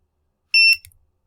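Electronic beeper in a reflex-timing game sounds once, a short high-pitched tone lasting a fraction of a second, clear and alone, followed by a faint click.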